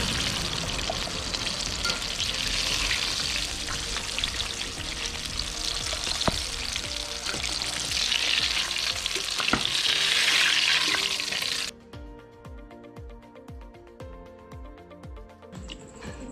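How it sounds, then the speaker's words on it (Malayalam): Chicken pieces for homemade KFC-style fried chicken sizzle loudly and steadily in hot oil, a dense close crackle that cuts off abruptly to a much quieter background of faint clinks and hiss. "നമ്മളെല്ലാം പൊരിച്ച് സെറ്റാക്കിയിട്ടുണ്ട്."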